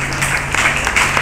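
Audience clapping at a community forum on the future of the Hawaiian Nation, a short burst of many hands applauding at close, even volume.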